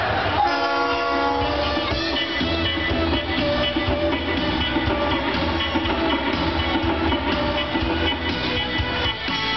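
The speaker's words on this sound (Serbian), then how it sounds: "Objavljamo polazak voza za Beograd. Molimo putnike da zauzmu svoja mesta." A train pulls away from Belgrade railway station, its horn sounding a sustained tone over a steady, loud rumble of rolling wheels and rail noise, with a station announcement.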